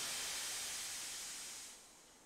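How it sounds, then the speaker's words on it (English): A cartoon steam locomotive lets out a long, bright hiss of escaping steam, loud and close, then fades away toward the end. "Thomas is wheezing out steam."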